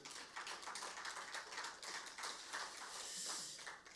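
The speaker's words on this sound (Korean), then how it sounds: "하나님이 일하시면 우리 박수로 영광 올리겠습니다" Congregation at a Friday night prayer meeting in a church breaking into applause, a dense patter of many hands clapping at moderate distance, sustained and fairly even throughout.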